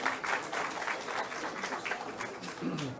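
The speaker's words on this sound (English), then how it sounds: "Would you please give Professor Atikul Islam, our Vice Chancellor, a warm round of applause." Applause from a conference audience honouring a university vice chancellor, a soft, fairly distant patter of clapping that holds steady for a few seconds with a murmur of voices underneath.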